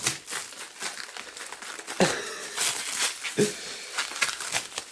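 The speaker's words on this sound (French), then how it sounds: "est emballé dans du papier de plastique. Hein. Donc là, voilà, on déballe tout" Plastic packaging crinkles and tears as fluorescent light fixtures are unwrapped by hand, a run of irregular close rustles and crackles with a few sharper bursts.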